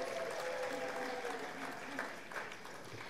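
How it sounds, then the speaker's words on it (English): Wedding reception guests applaud in a steady, dense wash of clapping that stays fairly even and fades slightly toward the end, with a faint tonal voice-like line running underneath early on. "So please, a round of applause for all of you."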